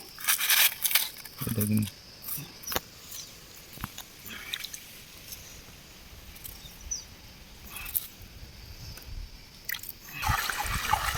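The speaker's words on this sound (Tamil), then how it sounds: "இப்படி கழுவி மணலெல்லாம் வேறையாக எடுத்துடணும்." Gem-bearing gravel being swished and rinsed in water to wash the sand away at a gem pit in Sri Lanka, with splashing, dripping and wet gravel scraping in bursts, under intermittent talk.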